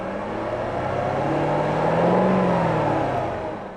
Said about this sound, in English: the Acadia pushed on through the pylons rather nicely